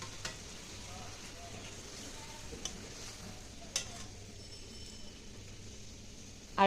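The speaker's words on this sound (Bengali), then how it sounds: "তো এবার দিয়ে দেবো মাছগুলো, হালকা করে নাড়িয়ে দেব।" Tilapia pieces gently stirred in a simmering pan, soft bubbling sizzle throughout with a couple of faint utensil taps, low and close.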